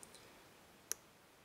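A Mako 427 lock is picked, and a single tiny metallic click from a lock pin sounds once, faint and close against near silence.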